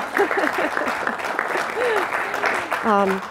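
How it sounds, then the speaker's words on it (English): Audience applause at a university panel on labor and food-chain health, a broad clapping texture underneath a few voices and brief whoops from the crowd. "we should have a round of applause for these amazing people"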